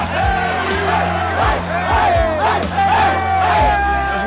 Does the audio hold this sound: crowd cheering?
yes